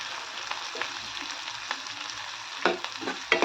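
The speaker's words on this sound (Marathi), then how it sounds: "याच्यात टाकून घेऊया आपण चिरलेला लसूण पाकळ्या छान कलर येईपर्यंत आपण तळून घेऊ" Chopped garlic cloves frying in hot oil in a pan, a steady soft sizzle with a few louder stirring scrapes near the end, no talking.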